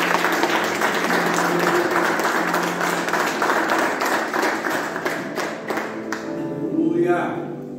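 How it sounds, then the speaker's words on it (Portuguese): A church congregation applauds in a dense, sustained burst of many hands clapping, fading out near the end as a voice resumes. "Você pode aplaudir Jesus?"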